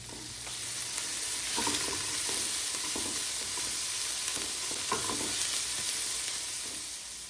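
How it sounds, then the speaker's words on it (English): Onion, carrot and celery sauté in olive oil at the start of a keto vegetable soup, giving a steady, close, even sizzle with faint stirring scrapes throughout and no talking. "I'm gonna start by sauteing onion, carrot, and celery."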